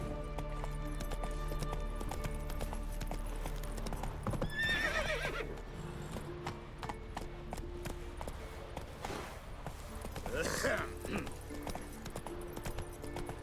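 A horse in The Witcher 3: Wild Hunt trots and gallops with rhythmic hoof clops over steady game music, letting out two loud whinnies midway and again near the end, with voices talking in the background.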